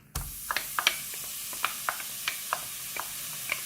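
Chopped onion sautéing in extra virgin olive oil in a pot for risotto, a soft steady sizzle broken by sharp clicks and taps of stirring at irregular intervals, close and fairly quiet.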